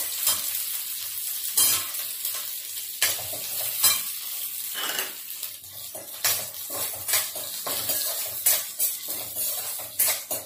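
Onion and finely chopped ginger sautéing in a pan, a steady close sizzle broken by repeated scraping stirs and occasional clinks of a utensil against the pan, with no talking.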